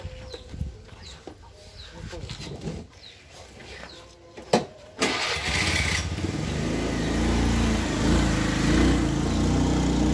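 A Honda Beat F1 scooter engine with a rattling fault on the throttle runs steadily and loudly in the second half, after quieter scattered outdoor sounds at the start.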